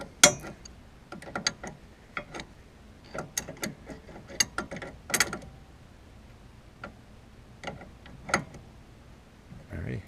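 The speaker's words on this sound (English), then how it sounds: "come back with a crescent and just finish it off" A crescent wrench snugs a fitting on a steering rack being depowered, giving close, intermittent metallic clicks and ticks in irregular bursts with quiet gaps between.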